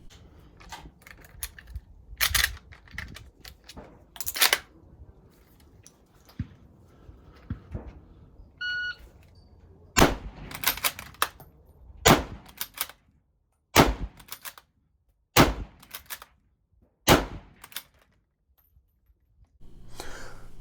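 An M38 bolt-action rifle fires a string of sharp, loud reports spaced a second or two apart, with quieter metallic clicks and clatter from bolt cycling in between.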